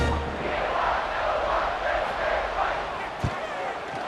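A steady roar from a stadium crowd in a college football video game, Texas Tech against Baylor, stays loud and continuous from start to finish, with one brief thump near the end.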